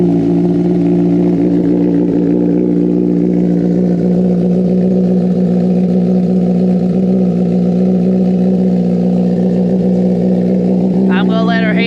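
A Gen 6 Kawasaki ZX10R sport bike with a Sloth Performance tune and aftermarket exhaust runs steadily in neutral, a loud, close, continuous engine drone with a brief rising rev near the end.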